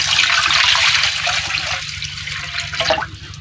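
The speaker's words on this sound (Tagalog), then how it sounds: "Ang mapula na nga po ang sibuyas, lagyan na rin natin siya ng tubig." Water is poured into a pan of reddened sautéed onions for a sayote dish, giving a loud, steady rushing splash and sizzle that tapers off after about three seconds, with no talk.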